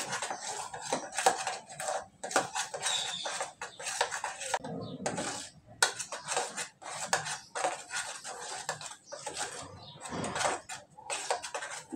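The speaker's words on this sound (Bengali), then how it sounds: "এভাবে নাড়িয়ে ছাড়িয়ে ক্যারামেলটা তৈরি করে নেব" A utensil scrapes and clinks against a pan as caramel is stirred over low heat for sweet yogurt (misti doi), giving irregular close scraping strokes with brief pauses.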